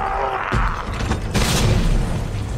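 Two deep booming blasts in Resident Evil 2 Remake, the second bigger and longer, over a constant background rumble.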